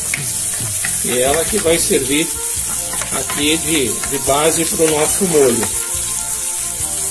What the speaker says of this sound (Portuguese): Então nós vamos aqui fritar um pouquinho essa alcaparra